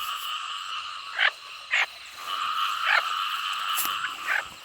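Frogs croak in rice fields flooded by heavy rain at night, a steady layered chorus of ringing calls with several louder, nearer croaks standing out in short bursts.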